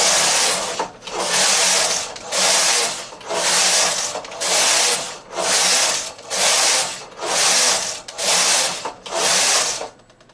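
A punch-card knitting machine works stockinette stitch, its carriage swishing across the needle bed in about eight regular strokes with short pauses between, a steady rhythmic mechanical rubbing that sounds close and alone.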